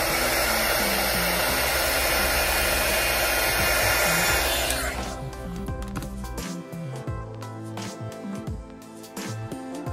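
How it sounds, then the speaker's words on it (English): A heat gun is aimed at a vinyl skin wrap on a Nintendo Switch Pro Controller and blows with a loud, steady roar for about five seconds, then shuts off, leaving quieter handling clicks and taps. "I'm gonna take my heat gun to that section and you'll see that it smooths out a lot more."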